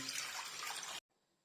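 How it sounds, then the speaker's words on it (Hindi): Four cups of water poured into a cooking pot for semolina and jaggery halwa, a close steady splashing stream that stops abruptly. "सबसे पहले एक बर्तन के अंदर 4 कप पानी डालेंगे"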